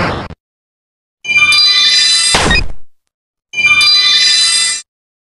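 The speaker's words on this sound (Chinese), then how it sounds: "这是3技能守护精灵的特效及音效。" Guardian Spirit, skill 3 of an elf character's Journey to the West tree-demon skin in a video game: a dull thunk and loud sustained shimmering chime-like tones, played twice with a sharp hit in the first instance and no talk.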